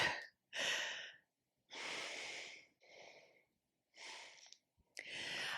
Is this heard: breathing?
yes